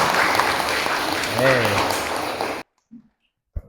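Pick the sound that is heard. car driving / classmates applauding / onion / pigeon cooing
classmates applauding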